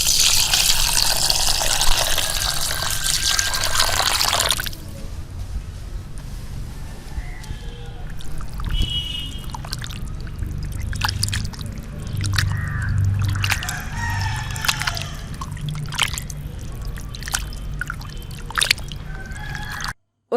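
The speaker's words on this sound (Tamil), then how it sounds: "இதுல தேவையான அளவுக்கு தண்ணி சேர்த்து இதை ஒரு 2-3 வாட்டி நல்லா கழுவி எடுக்கலாம்." Running water gushes loudly over half a kilo of raw pork being rinsed, steady for about five seconds, then drops to softer splashing and intermittent handling noises as the meat is washed.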